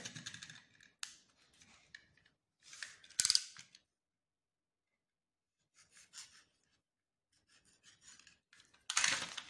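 Short scraping and slicing strokes of a utility knife blade drawn through paper, in separate bursts with quiet pauses between, close up.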